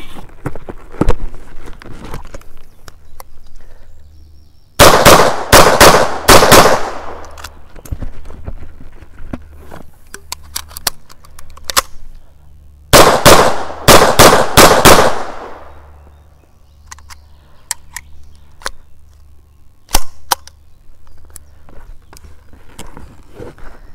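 Semi-automatic fire from a Czech Small Arms CSA Vz.61 Skorpion in .32 ACP during an El Presidente drill: two loud bursts of rapid, evenly spaced shots, each about six rounds, separated by a pause, with scattered clicks and handling noise around them.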